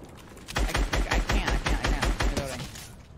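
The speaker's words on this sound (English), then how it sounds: "Shoot a wood wall now." A Fortnite weapon fires a rapid burst of about a dozen sharp, evenly spaced shots into a wood wall, each crack loud and close, trailing off after a couple of seconds.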